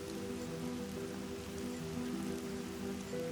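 Rain falls steadily on a survival camp in the Kalahari desert, a constant even patter close by under a low droning hum, with no voices.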